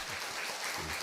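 Church congregation applauding during a Sunday worship service, a dense, even wash of clapping that lasts about a second, moderately loud and without talk.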